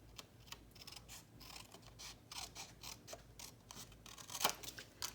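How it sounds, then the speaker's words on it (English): Scissors cut paper for a Christmas junk journal collage: a steady run of close, crisp snips and blade scrapes, growing a little louder near the end, with no speech. "I'm just going to cut it off with my scissors"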